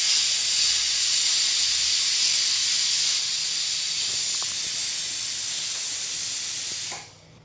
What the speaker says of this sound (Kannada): ಸಾಂಬಾರಿಗೆ ಇಟ್ಟಿದ್ದೆ ಸೊ ವಿಸಿಲ್ ಹೊಡಿತು ಕುಕ್ಕರ್